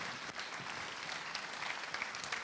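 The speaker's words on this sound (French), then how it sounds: "merci de les applaudir." An audience at a French social-enterprise workshop event claps steadily, a dense patter of applause with no voices heard.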